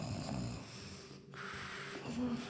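A sleeping character snores in a Thief fan mission, The Sword of the Stones: slow, rough breathing rasps rise and fall across the clip at close range, fairly loud against a low game ambience, with no talk over it.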